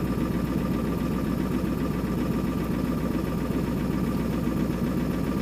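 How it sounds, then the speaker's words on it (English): A 2000 Ford Excursion diesel idles cold with a miss and an injector-type knock, its steady low rumble carrying a rapid rhythmic clatter, close and continuous throughout. "It's also got a knock in it like an injector issue."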